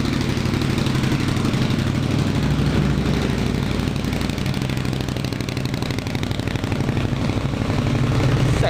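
Indian Scout motorcycle fitted with a new loud stainless steel exhaust tip, a close, steady low engine rumble with rapid even pulsing throughout, no speech.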